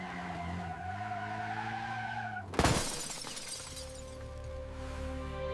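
A car skids with failed brakes, a long tire screech suddenly broken by a loud crash and shattering impact, then a lingering tonal hum afterward.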